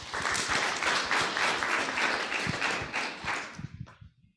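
Round of applause from an audience at an ecosystem and community research conference session, steady dense clapping for about three and a half seconds before tapering off into a few scattered claps and silence.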